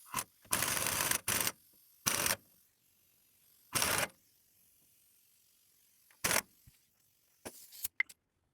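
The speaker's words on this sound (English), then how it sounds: "ran that nut in with the impact" An impact wrench runs a nut onto the Loctite-coated pinion threads of a 9-inch rear end on a 1979 Ford F100. It fires in several short, loud bursts, one longer and the rest brief, separated by quiet pauses.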